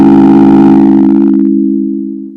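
A Believotron Wanderlust synthesizer patch driven into overdrive holds one loud, buzzy, low-mid tone with a gritty upper edge that thins out midway, then fades gradually toward the end.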